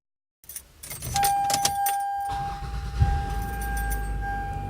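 A cold Toyota Camry engine starts and settles into a steady low idle rumble, with a thin electronic warning tone running over it.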